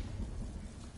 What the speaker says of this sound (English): Oh, that sounds like a storm.